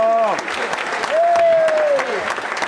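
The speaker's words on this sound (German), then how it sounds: "Danke für den Applaus." Audience applause at a Tyrolean folk music concert, a steady clatter of clapping throughout, with a voice speaking over it.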